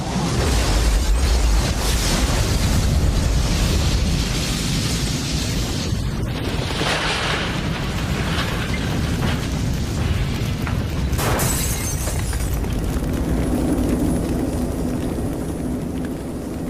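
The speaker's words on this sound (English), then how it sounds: "It was a lightning-sparked gas explosion that set fire to an apartment house in Atlanta." A lightning-sparked gas explosion at an Atlanta apartment house, a continuous deep roaring rumble with bursts and crackles, loud and sustained, with a sharp blast partway through.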